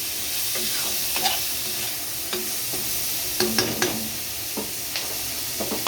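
A fish head fries in a pan, a steady loud sizzle underneath while a utensil stirs it, scraping and clinking against the pan in scattered short strokes, with no one talking.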